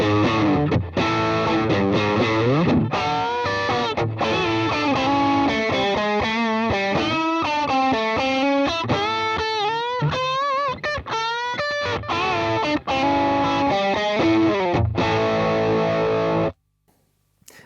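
Electric guitar through a Wampler Dual Fusion Tom Quayle signature pedal on a high-gain solo setting, a distorted lead line of fast sustained notes and bends played alone, ending abruptly.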